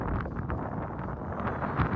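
Hot desert wind gusts in the Dubai desert during a safari, roaring and buffeting hard against the microphone as a dense, continuous rumble.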